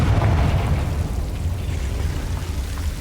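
A Confringo blasting spell goes off in Hogwarts Legacy, a loud deep boom with a rumbling burst that fades slowly over the following seconds.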